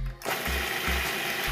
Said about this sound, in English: So I'm gonna start by putting some of these walnuts into my food processor. I'm gonna be grinding them down into small pieces